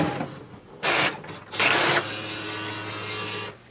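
An HP OfficeJet Pro 8035 printer makes a copy, with two loud bursts of mechanical whirring and paper feed movement, then a quieter steady motor hum, heard up close.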